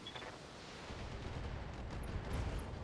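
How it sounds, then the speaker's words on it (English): A mech's ammunition cooking off in the BattleTech video game, a low rolling explosive rumble that swells and lingers for a few seconds over a dense noisy mix, fairly faint. "Ammo explosion took him out."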